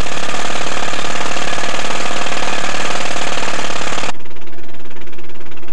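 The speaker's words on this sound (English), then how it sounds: "to see how well it insulates the sound of the jackhammer" Loud, steady jackhammer pounding heard from a distance outside a 1981 Chevrolet El Camino, a dense rattling roar that cuts off abruptly after about four seconds and leaves a quieter hum.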